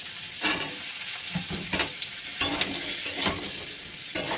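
Potato and drumstick pieces fry in a pan with mustard, giving a steady crackling sizzle broken by periodic scraping stirs, close and fairly loud.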